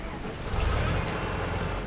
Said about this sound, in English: we're gonna get this tractor here.